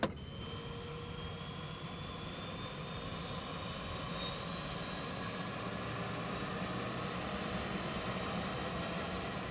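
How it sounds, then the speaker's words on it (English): The engines of a magnetic survey plane roar steadily and loudly as they start up, with rising whining tones over a constant propeller drone and no voices. "we're ready to start the engines anytime"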